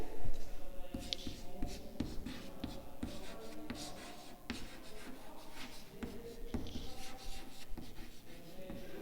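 Chalk writing on a board during a physics lecture on the time-independent Schrödinger equation, a continuous run of scratchy strokes and sharp taps at close range, with faint speech in the background.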